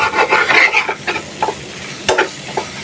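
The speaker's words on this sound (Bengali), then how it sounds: "মশলাটা ভালোভাবে কষায় নিই।" Prawns frying in a pan with garlic paste, turmeric, chili and coriander powder, stirred in brief scraping bursts over a close, steady sizzle, with no voices.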